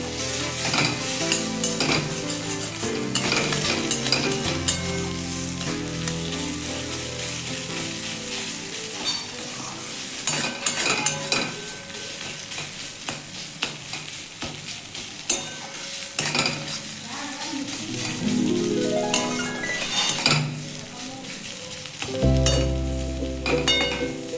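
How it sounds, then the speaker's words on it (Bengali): Taro leaf paste with lime juice fries in a pan, a constant sizzle under repeated scraping and clinking as it is stirred, close and steady for a long stretch with no speech. "আমি একটু নাড়িয়ে নেবো"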